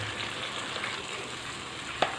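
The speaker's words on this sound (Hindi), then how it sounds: "अभी इसको हम थोड़ा फ्राई करेंगे ताकि इसका जो कलर है वो थोड़ा सा चेंज हो जाए" About a kilogram of chicken fries in a pan for karahi, giving a steady, soft sizzle and crackle with a faint clink near the end.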